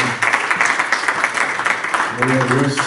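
A church congregation bursts into sustained clapping as an offering of praise to God, a dense, loud patter of many hands, with voices speaking and calling out over the applause.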